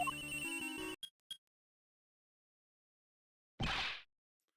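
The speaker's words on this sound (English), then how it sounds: "Whoa, I'm getting a call too." An electronic phone ringtone chimes in the Ace Attorney video game, a short melodic ring followed by two brief blips, then after a pause a single loud burst of noise.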